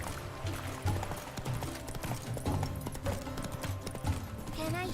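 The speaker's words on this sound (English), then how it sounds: "Come on, Roach." Roach, a horse in the video game The Witcher 3, trots with rhythmic clip-clop hoofbeats under dense game sound and music, with voices in the background.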